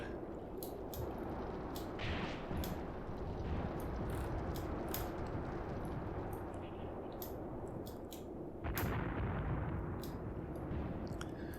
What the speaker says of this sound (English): Artillery's still falling in this area